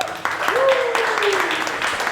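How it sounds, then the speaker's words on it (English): A crowd at a community speaking event in Taipei, Taiwan applauds, with a whooping cheer rising over the scattered claps and voices. "Round of applause for Ghanniy."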